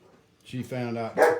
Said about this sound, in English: We got some dogs that live next door.